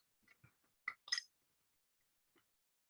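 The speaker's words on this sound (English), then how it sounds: "So I stir it slowly until it mixes like this one." A spoon stirs chocolate into iced coffee in a glass, giving a few light, scattered clinks against the glass in a quiet room with no talking.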